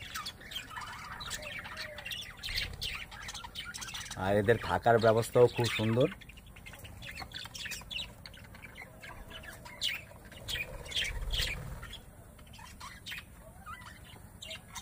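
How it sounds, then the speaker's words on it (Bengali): Various birds call and squawk in a park aviary, with a loud burst of harsh squawks near the middle over steady chirping, while someone talks throughout. "এবং দেখতেই পাচ্ছেন পাখিদের গান,"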